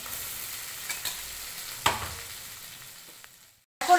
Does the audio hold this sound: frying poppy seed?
yes